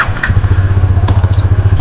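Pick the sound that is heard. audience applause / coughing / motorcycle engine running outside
motorcycle engine running outside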